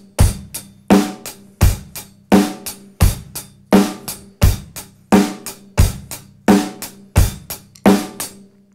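Beginner drum beat on a kit: a steady, evenly spaced pattern of sharp hits with hi-hat eighth notes and snare backbeats on two and four, close and clear with no talking.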